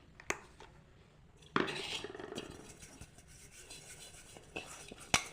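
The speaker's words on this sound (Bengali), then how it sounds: "এই বাটির মধ্যে আমি কিছুটা রিফাইন তেল দিয়ে ভালো করে চারিদিকে মাখিয়ে নেব।" Refined oil is rubbed around the inside of a silver bowl to grease it for a cake: quiet scraping and rubbing with light metallic clinks, and a louder knock near the start and again at the end.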